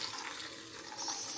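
Water splashes steadily into a bowl of oats, a broad continuous pour that swells slightly louder toward the end, close and alone.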